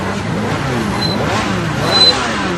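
Motorcycle engine revving during dangerous bike stunts on a road in Jhansi, a steady mid-pitched drone that swells near the end, with voices faintly mixed in.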